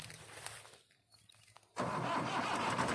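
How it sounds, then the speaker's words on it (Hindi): A farm tractor engine cranks briefly, then catches at once and settles into a loud, steady running roar that holds to the end. "दोस्तों ये ट्रैक्टर स्टार्ट हो चुका है।"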